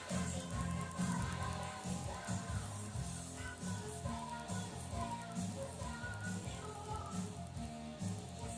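A hard rock album plays as dense background music at a steady level, filling the whole stretch without talk.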